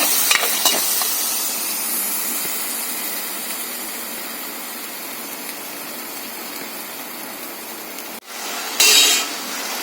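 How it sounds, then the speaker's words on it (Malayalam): Ground tomato paste frying with onions in a pan for a prawn roast gravy, a steady hissing sizzle running throughout with a few stirring knocks, a brief break, then a louder burst of sizzle near the end. "അരച്ച് വെച്ചിരിക്കുന്ന തക്കാളി പേസ്റ്റ് കൂടെ ചേർത്ത് കൊടുക്കാം നന്നായിട്ട് ഇളക്കി കൊടുക്കാം"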